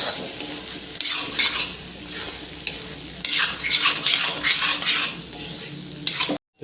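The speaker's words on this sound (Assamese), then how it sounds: "মাংস ধুনীয়াকৈ ফ্ৰাই হৈ গ'ল।" Pork frying in a pan while being stirred, with steady sizzling and repeated scraping, clinking stirs against the metal, close and continuous for several seconds before cutting off abruptly.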